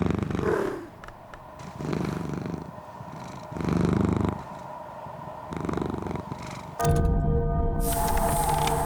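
A cat purrs in the video game Book of Hours, a steady rumbling purr rising and falling in repeated swells over soft ambient music, then giving way to a brighter musical passage near the end.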